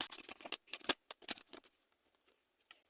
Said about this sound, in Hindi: कुछ और कार्ड्स लेते हैं।